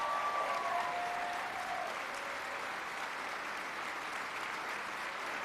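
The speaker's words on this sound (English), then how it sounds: "Let's give them a round of applause." A standing audience at the 2025 New York State of the State address applauds in a broad, sustained roar of clapping from a large hall, with a faint tone sliding downward early on.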